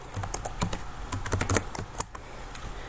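Someone types a game chat command on a computer keyboard, producing a quick, irregular patter of close, crisp key clicks over faint background noise, without talking.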